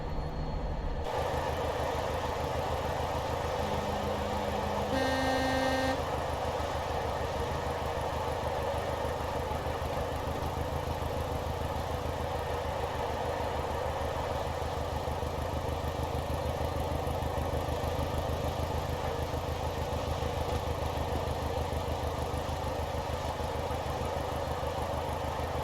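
A Class 205 diesel multiple unit in Train Simulator Classic drones steadily as it accelerates, with a continuous low engine rumble and a few short tonal beeps near the start, no talking.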